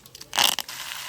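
Mustard seeds, dried chilies and curry leaves drop into hot oil, giving a brief loud crackling sizzle that swells, then settles into a steady hiss.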